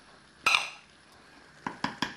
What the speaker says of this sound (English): you just need to pop the lid on there